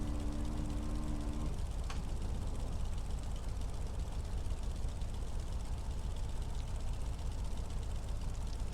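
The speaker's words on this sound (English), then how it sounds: "Good engine start." A Beechcraft Staggerwing radial engine idles steadily after start in Microsoft Flight Simulator 2020, a continuous low rumble with a brief tonal whine at the beginning and no voices.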